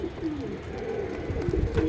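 A pair of Giribaz racing pigeons coo softly at close range, with repeated low, throaty rolling calls over faint background noise.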